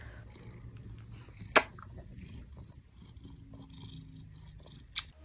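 A cat purring close by in a low, continuous rumble, broken by two brief sharp clicks.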